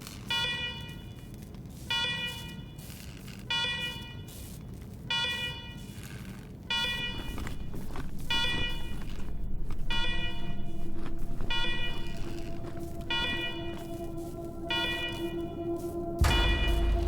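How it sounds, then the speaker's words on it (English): At the Ranger base in Wasteland 3, an electronic alarm blares in repeated rhythmic bursts of rapid beeping tones, loud and echoing, with a steady drone beneath and a sudden low thump near the end. "Noisy alarm."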